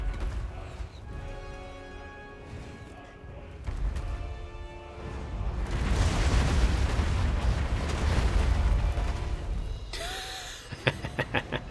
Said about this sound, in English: maybe we can just drop some rocks on his head.